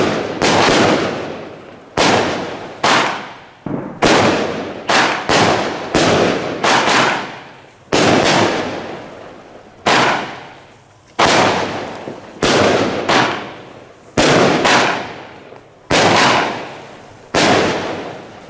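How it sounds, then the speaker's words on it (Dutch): Loud firework salutes, Blue Salute and White Strobe shells, banging repeatedly in an irregular series of sharp reports, each followed by a short decaying crackle, with no talking over them. "Wat een al die vuurwerk dit!"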